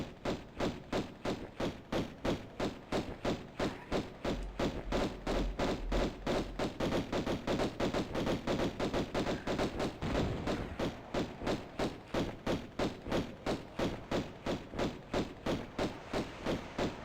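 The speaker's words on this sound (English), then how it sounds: "since they can't get me from here, I might as well use the pistols." Steady, evenly spaced pistol shots fire in Tomb Raider, a long run of sharp thuds repeating about three times a second with no pause.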